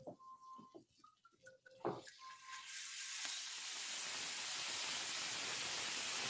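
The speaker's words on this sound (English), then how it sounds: "It's sizzling, it's bubbling." A few light clinks, then a loud, steady sizzling hiss of food frying in a pan with red wine added rises and keeps going.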